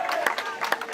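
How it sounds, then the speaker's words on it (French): Supporters cheer in the middle of the night as Gilles Lamiré's boat arrives in Guadeloupe at the end of the Route du Rhum. Bursts of crowd noise and whoops come in short waves, mixed with some talk. "Les acclamations des soutiens de Gilles Lamiré qui sont là même au cœur de la nuit."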